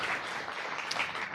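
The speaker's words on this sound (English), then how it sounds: "Thank you very much, and another round of applause." Brief burst of audience applause at a GNU Radio conference session, a short dense clatter of clapping hands that fills the moment without a clear start or finish.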